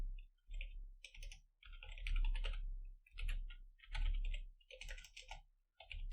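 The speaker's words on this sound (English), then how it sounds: "we'll type in our username" An email address is typed on a computer keyboard in quick, close clicking bursts separated by short pauses, the keystrokes fairly loud and crisp.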